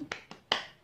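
Three sharp claps from a classroom doing a rhythmic 'tepuk semangat' spirit clap, quick and close, spaced evenly with the third the loudest.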